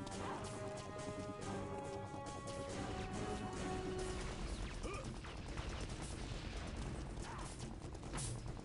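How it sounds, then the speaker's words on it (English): Gunfire in Unreal Tournament 2003 crackles as a busy mix of shots, impacts and explosions, fairly faint and continuous, with sharp bursts scattered through the noisy game action. "They're shooting at me there."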